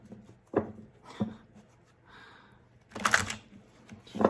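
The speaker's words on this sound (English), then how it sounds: "I'm gonna do 3 more shuffles." Close tarot card shuffling in a few separate bursts, sharp riffles with pauses between, ending in a louder flurry; no talking.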